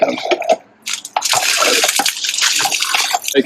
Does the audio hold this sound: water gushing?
yes